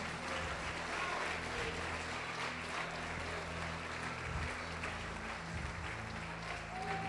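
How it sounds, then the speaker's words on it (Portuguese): A church congregation applauds the Lord Jesus during a worship service, steady dense clapping filling the room throughout, mixed with organ or keyboard tones and voices. "Você pode aplaudir o Senhor Jesus?"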